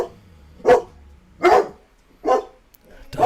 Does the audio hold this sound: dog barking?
yes